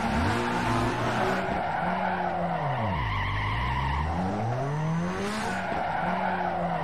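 A Toyota Corolla AE86 drifts in the racing game Need for Speed: Underground 2, its engine droning and bending in pitch under a long, continuous tire squeal that runs loud and close throughout.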